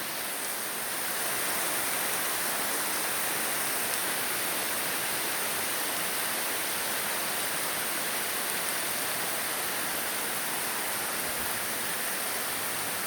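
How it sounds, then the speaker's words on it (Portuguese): Heavy rain pouring down steadily in a dense, even hiss that stays constant and loud, with no talk. "Chuvão mesmo, ficou tudo branco agora."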